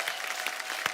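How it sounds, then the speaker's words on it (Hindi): Applause from a studio audience on a comedy talk show, a dense wash of clapping with a few sharper claps standing out, fairly faint and continuous. "जोरदार तालियां एक बार फिर से।"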